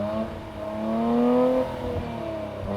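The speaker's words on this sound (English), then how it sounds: "you have these exhausts that have little perforations in them to sort of tweak the sound of them" A 2023 Nissan Z with perforated exhaust revs up loudly nearby, its engine note climbing to a sustained peak for about a second before dropping back to a steady idle-like hum.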